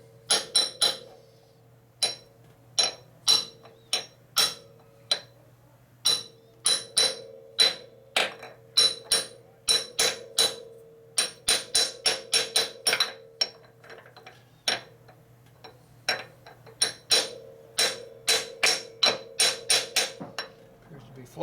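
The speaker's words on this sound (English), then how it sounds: "I need a bigger hammer than this" Metal hammer blows striking a seal into place on a motorcycle, dozens of sharp ringing strikes in uneven bursts with short pauses, close and fairly loud, no talking.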